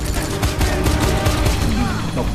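Rapid gunfire in the shooter game Wanted: Weapons of Fate, a dense, loud stream of shots emptying a magazine, continuous and close throughout.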